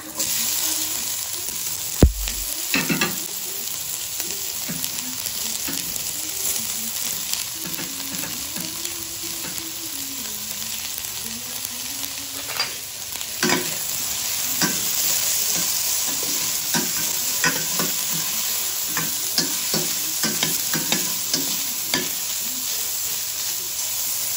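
Onion and ginger frying in a pan for duck adobo, a steady loud sizzle throughout with occasional stirring scrapes and knocks.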